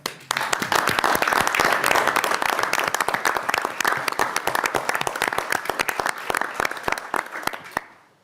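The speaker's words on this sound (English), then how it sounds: "I think we should thank them for their work with a round of applause" Committee members and attendees at a House Ways and Means Committee meeting give a round of applause for retiring members, dense clapping from many hands that swells quickly, holds for about eight seconds, then stops abruptly.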